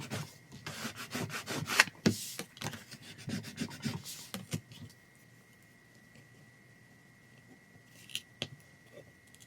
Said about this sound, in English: I'm just going to use my craft scraper to kind of smooth this down